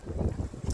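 Outdoor wind rushing over the microphone at night near the Emirates Palace in Abu Dhabi, a brief low rumbling gust with fluttering buffets, no talking.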